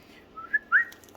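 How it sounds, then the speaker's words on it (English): A person whistles two short, rising notes in quick succession, the second longer and louder than the first, fairly close and alone, with no talk. "That's whistling."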